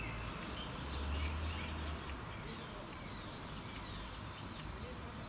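Light birdsong outdoors, with a few clear rising whistled chirps from birds at a middle distance, set against a constant low ambient hum.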